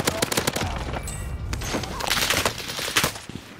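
Rapid gunfire bursts crackle through a Call of Duty Warzone match on the Caldera map, with repeated sharp shots in quick clusters and automatic fire, loud and close, with no talk.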